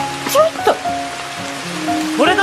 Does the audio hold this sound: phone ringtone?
no